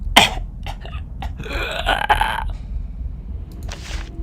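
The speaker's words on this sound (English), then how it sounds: "Oh, how I cough." A video game character gives a few rough coughs and throat-clearing sounds, spaced out over a low steady background hum.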